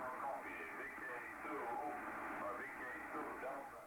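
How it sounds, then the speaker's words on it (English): Ham radio voice signal received via long path, with a faint echo trailing the transmission; steady, crackly radio speech fills the whole stretch without pause. "listen to the echo, because I'm aimed long path"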